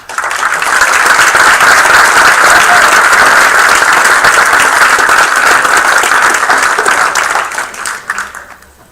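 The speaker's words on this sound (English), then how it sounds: "How about a nice round of applause for Mr. Tony Siak." A council meeting audience breaks into loud, sustained applause that holds steady for several seconds before tapering off at the end.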